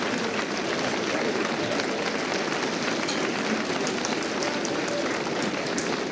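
Sustained applause from a seated audience at a high school NJROTC military ball, honoring a combat-wounded Army veteran: dense, steady clapping filling the room at even loudness throughout, with no voices above it.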